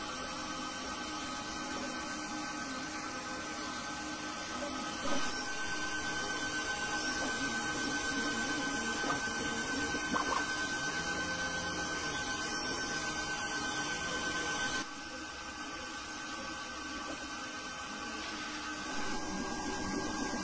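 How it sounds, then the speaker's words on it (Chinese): A high-end German-designed desktop PEEK 3D printer runs mid-print with a constant mechanical whir and steady motor tones, its hum shifting slightly a few times over the run. "打印中。"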